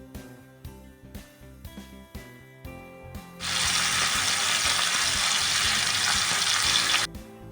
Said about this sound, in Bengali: মাছগুলোকে উল্টে পাল্টে দুই পিঠে বেশ ভালো মতন আমি ভেজে নেব